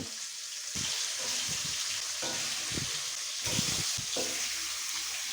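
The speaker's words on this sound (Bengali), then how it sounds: "এবারে কিন্তু কাঁটাগুলো আমি ভেজে নেব ম্যারিনেট করা কাঁটাগুলো" Marinated bhetki fish bones frying in hot oil left over from frying potatoes, a steady, fairly soft sizzle with occasional stirring and clatter in the pan.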